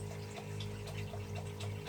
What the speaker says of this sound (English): timer that controls the DC pumps, the DC water pumps.